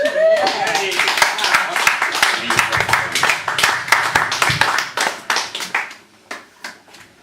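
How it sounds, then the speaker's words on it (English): An audience claps after a talk, close, sharp individual hand claps in a fast irregular patter that gradually thin out into a few scattered, spaced claps at the end. "More applause, please, for that."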